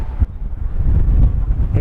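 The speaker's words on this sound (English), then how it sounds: "boy, is this a windy city" Strong wind buffets the microphone in an exposed city street in Figueres, a steady low roar with gusty surges throughout and no talk.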